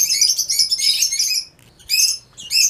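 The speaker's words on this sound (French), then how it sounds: "vous allez voir par exemple un oiseau ici" A small bird on a rooftop terrace gives rapid, bright chirps in close bursts, with a short pause before two more quick bursts, loud and near with no one talking.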